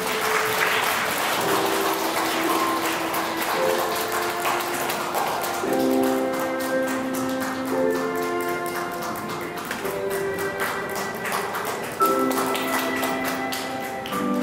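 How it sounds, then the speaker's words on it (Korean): Wedding guests at a ceremony hall applaud steadily and loudly for about fourteen seconds while background music plays, with no talk over it. "박수 부탁드리겠습니다."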